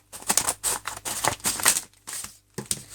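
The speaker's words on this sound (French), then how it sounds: "je vais donc ouvrir ce Duopack" A Pokémon Arceus duopack card package is torn open, with a quick run of close, crisp crinkling rips and plastic rustles in short bursts.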